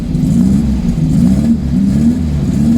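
A 1974 VW Beetle that had sat for years, its engine briefly catching and running on accelerator pump fuel, a loud close low rumbling idle with an uneven wavering throb.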